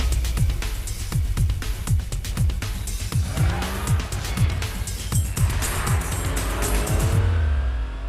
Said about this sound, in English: I need a straight road and a noisy car